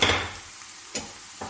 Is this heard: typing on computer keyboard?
no